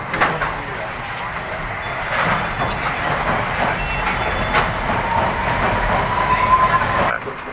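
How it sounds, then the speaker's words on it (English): A London Underground District line train pulls into a station, a steady broad rumble and rail roar with a faint rising squeal near the end, set under a public-address announcement. "The next train to arrive will be the district service to Wimbledon"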